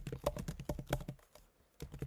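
Someone types a command on a computer keyboard, giving a quick run of close, crisp keystrokes, a brief pause, then a couple more taps.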